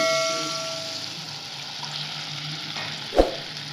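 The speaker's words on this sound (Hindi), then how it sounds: "बस हम इसके अंदर अब तमाम सॉस को डाल देते हैं।" Sauce poured into a hot pan of gobi manchurian, giving a broad sizzle that fades gradually, then a single sharp clink of a utensil near the end.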